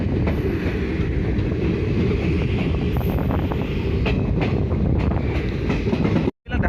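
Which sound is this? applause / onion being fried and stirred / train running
train running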